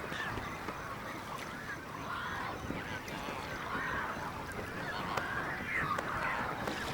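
Tens of thousands of flamingos gathered on a shallow, drying pan in Botswana call together in a dense, continuous honking chorus, with overlapping goose-like cries at a steady moderate level and no voices.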